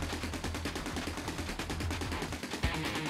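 Rapid automatic fire from the super gun in the shoot-'em-up Steredenn, a dense stream of evenly spaced shots, loud and continuous with a heavier hit near the end.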